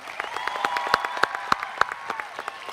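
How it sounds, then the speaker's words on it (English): An audience claps steadily at a high school graduation ceremony, a moderately distant mass of applause with a few sharp individual claps standing out over the continuous patter. "Let's give them all a big round of applause."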